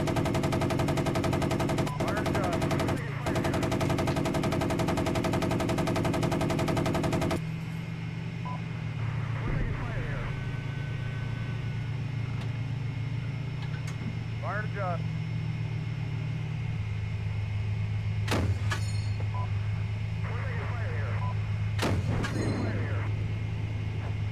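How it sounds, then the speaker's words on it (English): An armored personnel carrier's gun firing in a military video game, rapid bursts of automatic fire at the start followed by scattered sharp shots and rumbling engine noise, with people talking over it. "Your APC is firing again."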